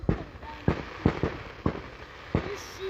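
Fireworks bang in a series of sharp, loud explosions about every half second to second, some crackling, with excited voices faintly in between.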